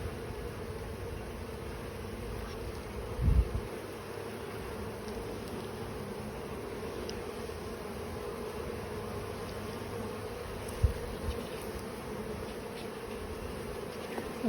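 Honey bees buzz in a steady, faint, continuous drone through a hive inspection, with a couple of brief thumps and knocks breaking through and no voices heard.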